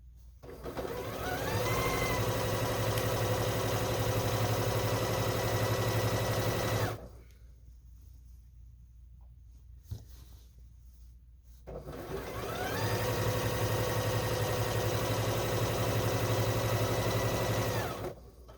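A sewing machine stitches a quilt fabric panel at 2.5 stitch length, running in two long steady bursts of close, even mechanical whirring with a pause between them.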